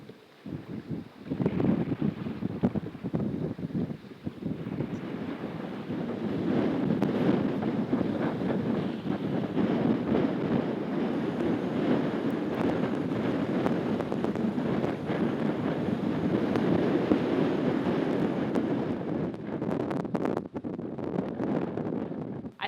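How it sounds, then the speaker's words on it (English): Strong wind buffeting the microphone on the Yukon River, a loud continuous rumbling roar that gusts and holds steady for the whole stretch, with faint water movement beneath. "Woke up this morning and it was super windy"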